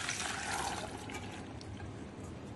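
Water from boiled chickpeas drains through a mesh strainer into a bowl below, a steady close splashing pour that eases slightly after the first second, with no talk.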